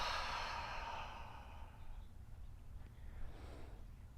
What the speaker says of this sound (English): exhale fully through the mouth.